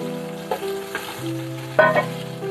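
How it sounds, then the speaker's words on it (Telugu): Onions fry with biryani spices in a pan for chicken biryani, a soft steady sizzle with a few stirring scrapes and clinks, close by, no talking. "దీంట్లోకి ఇప్పుడు ఆనియన్స్ వేసుకుంటున్నాను."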